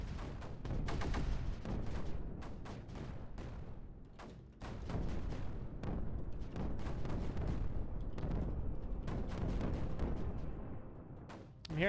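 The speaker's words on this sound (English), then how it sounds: "I'm hearing explosions." Explosions in the strategy video game Creeper World 4 rumble and crack in a dense, continuous barrage of overlapping blasts and bursts, loud and sustained with only a brief dip partway through.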